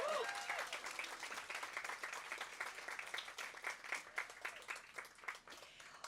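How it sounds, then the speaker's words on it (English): Sustained applause from an audience at a community speech event honoring an organization's co-founders, dense clapping throughout with no speech over it. "can we give a huge round of applause to the co-founders, Sally Krueger-Wyman and Emily Suñez?"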